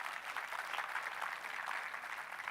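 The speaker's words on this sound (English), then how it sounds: "That should deserve a big round of applause for all of you." An audience at a lecture session claps in a soft, continuous patter, fairly distant and even throughout, with no voices rising above it.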